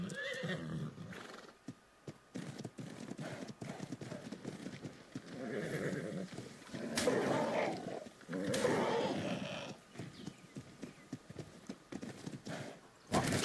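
In the video game ARK, a horse's hooves clip-clop along at a steady pace amid busy game audio, with snorting and animal calls rising in bursts.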